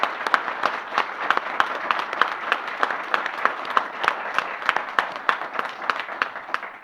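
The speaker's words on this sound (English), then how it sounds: "Can we give her a round of applause?" A modest audience claps to welcome Cornell's new athletics director, with individual hand claps distinct and fairly close, forming an uneven but continuous patter.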